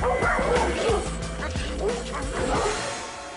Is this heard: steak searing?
no